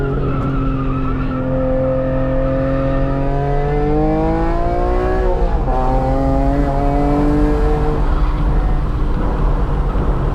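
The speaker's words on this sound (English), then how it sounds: "A little bit of tire noise." Loud, continuous engine roar of an E46 BMW on a track, with rising and falling whine as it shifts and tires scrub through a corner; no talking.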